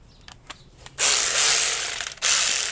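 Electric ratchet spinning loose a 10 mm bolt on a 2012 Toyota Corolla: a few faint clicks, then a loud, steady buzzing whir for about a second, a short break and another burst, close up with no talking.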